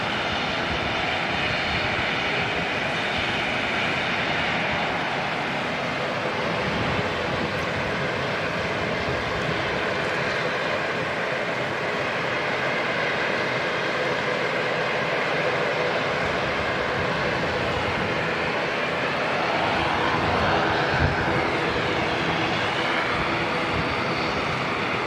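Air New Zealand flight NZ429 departing Auckland Airport, its jet engines a loud, continuous roar that holds steady for the whole stretch and swells slightly near the end.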